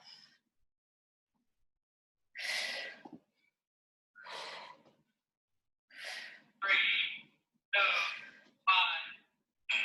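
Forceful exhaling breaths during a high-intensity abs and lower-body workout with no equipment: six or seven sharp, breathy bursts blown out at a steady rhythm after a quiet start, close and fairly loud with no talk.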